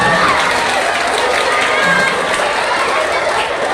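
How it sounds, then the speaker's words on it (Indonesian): Audience at a Maulid Nabi celebration applauding a child, dense loud clapping with crowd noise and children's voices, continuous throughout. "Tepuk tangan dulu untuk Arkan"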